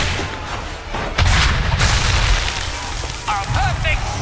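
A cannon fires in Assassin's Creed III amid a redcoat battle, a loud booming blast about a second in, followed by rumbling decay, with a brief voice near the end.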